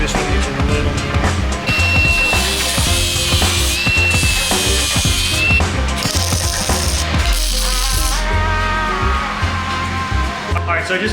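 Grinder working on welded metal tubing for a 50HP Power Wheels build: dense, gritty, rattling grinding with clanks and metallic ringing runs continuously at close range, loud throughout, with some busy shop noise mixed in.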